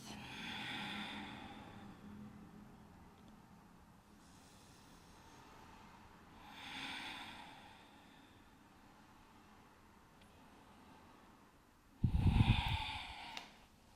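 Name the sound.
slow deep breathing during yoga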